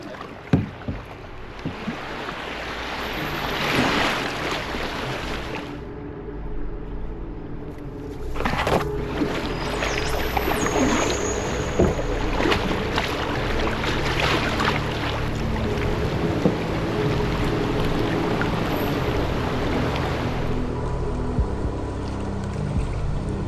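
Canoes setting off on the Connecticut River, with paddle strokes and water sloshing against the hulls amid steady broadband wash and wind rumble on the microphone, continuous and fairly loud with no voices.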